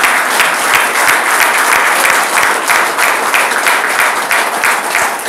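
A crowd applauds steadily at a religious gathering, dense, even clapping that stays loud and close throughout with no voices over it.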